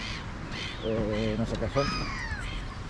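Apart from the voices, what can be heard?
birds calling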